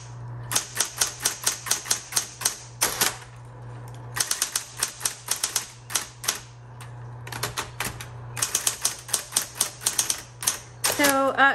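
A 1960s Smith Corona Coronet Automatic 12 electric typewriter types in quick bursts of sharp key strikes, with a steady motor hum underneath, short pauses between runs and a carriage sound at the end.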